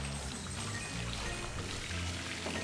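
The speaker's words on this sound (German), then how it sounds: "Wenn ich hier das Wasser betätige..." Running water in the video game Luigi's Mansion 3, a steady pouring and trickling wash that fills the short stretch at moderate level, alone without talk.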